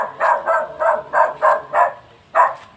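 A dog guarding its owner at a hilltop cemetery barks about eight times in a quick, even rhythm, close and loud, with a short pause before the last bark.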